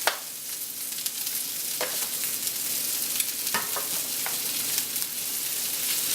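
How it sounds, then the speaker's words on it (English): Caramelized onions and garlic sizzle steadily in a pan, a continuous close frying hiss with occasional louder pops and stirring scrapes, no voices. "So we'll get our caramelized onions in there."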